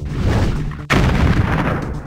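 Heavy gunfire and booms from a tank battle in the Puppy Rescue Patrol cartoon game, loud continuous blasts with a sharp break and a fresh burst midway.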